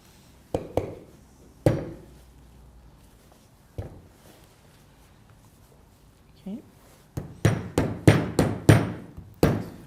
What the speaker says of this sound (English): You can help yourself using a hammer.